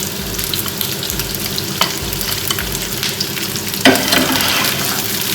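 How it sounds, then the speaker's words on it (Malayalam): Sliced onions and green chillies sautéing in hot oil in a pan, a steady close sizzle with occasional scraping stirs and a sharper clatter near the end, no voices. "ഇതൊന്ന് ചെറുതായിട്ടൊന്ന് വഴറ്റിയെടുക്കാം"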